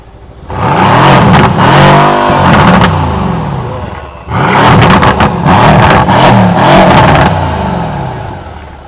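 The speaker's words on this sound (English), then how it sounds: "You just can't replace that V8 sound, eh?" A 4-liter twin-turbo V8 car engine revs loudly up close in two long, rising bursts, each settling back before climbing again.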